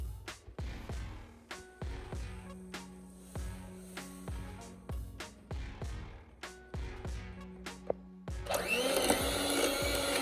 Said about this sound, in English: Now I'm just creaming the butter and sugar together